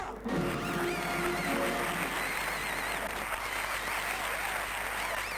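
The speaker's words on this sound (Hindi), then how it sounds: "आपकी तालियों में हमारे सामने आ रहे हैं सलीम जमेला।" A studio audience at a Pakistani comedy sketch show bursts into loud, sustained applause to welcome a performer onto the stage, a dense steady roar of clapping throughout.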